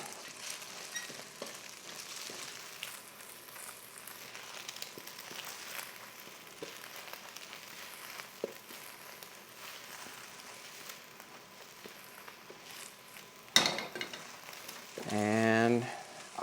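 Egg frying in hot oil in a pan, a soft steady sizzle running throughout, quiet and close, with a brief clatter and a louder burst of crackle near the end.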